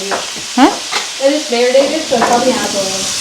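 Marinated beef frying in a dry pan with no oil, a close sizzle under stirring, with someone talking over it throughout.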